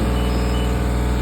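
Genie S-40 boom lift warning alarm, a loud steady pulsing beep close by over a running engine hum, no talk.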